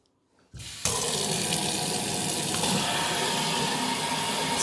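Kitchen faucet switching on after a short quiet moment, then a steady loud rush of tap water pouring into a sink, continuous and close for several seconds.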